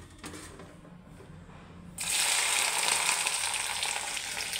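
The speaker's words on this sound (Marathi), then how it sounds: "ही भेंडी तळून का घ्यायची की त्याचा जो चिकटपणा आहे तो सगळा तळल्यामुळे निघून जातो" Okra (bhindi) dropped into hot oil, a quiet crackle that swells into a loud, dense frying sizzle about halfway through and keeps going steadily.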